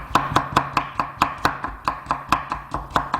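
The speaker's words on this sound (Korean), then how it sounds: "그 다음에 채 썰어서" A knife chops steadily on a cutting board, julienning cucumber into thin strips, with about fifteen crisp, evenly spaced strokes in a quick rhythm and no talking.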